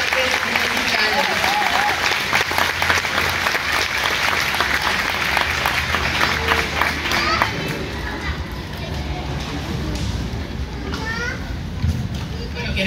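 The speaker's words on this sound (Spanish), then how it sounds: "Fuerte el aplauso" Audience applause at a choral concert in Tijuana, a dense, loud clapping wash that carries on steadily with crowd noise and children's voices mixed in, then thins toward the end.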